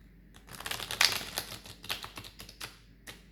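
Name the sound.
shuffling thin cards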